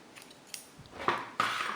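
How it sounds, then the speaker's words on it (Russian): Scissors snip through crochet thread, two quick close cuts about a third of a second apart, quiet and crisp with no voices. "и обрезаем с вами ниточку"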